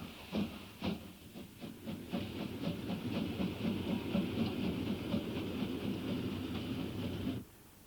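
An SNCF 241P steam locomotive, a massive French compound engine of over 130 tons with big outside low-pressure cylinders, runs with a steady chuffing and hissing rhythm and a busy mechanical clatter, then cuts off abruptly near the end.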